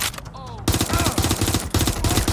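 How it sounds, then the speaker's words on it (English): Rapid automatic gunfire in the video game Watch Dogs Legion, loud and dense, in sustained bursts with a brief quieter gap near the start, and game voices faintly underneath. "I'm getting shot at here!"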